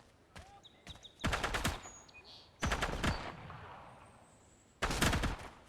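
Three bursts of rapid automatic gunfire from a video game set in a lab area, each lasting about a second with quieter ambient gaps between them, fairly close and loud.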